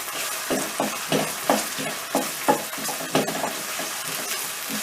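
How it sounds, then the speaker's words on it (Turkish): Tomato paste fries in oil in a pan while a spoon stirs it, giving a steady sizzle broken by regular scraping strokes about every two-thirds of a second, close and moderately loud, with no talking. "Şöyle salçayı güzelce karıştırıp yediriyoruz"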